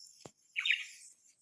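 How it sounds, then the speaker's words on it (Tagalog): A single bird gives a brief, faint call outdoors. It is one short chirp that stands alone against quiet background hiss. "may ibon guys atong bidyuhan"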